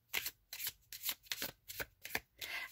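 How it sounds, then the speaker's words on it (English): A thick-stock mass market tarot deck is riffle-shuffled up close, about eight quick crisp bursts of fluttering card noise in steady rhythm with no talking. "some of the decks that I was shuffling, the sound was too sort of almost high pitched"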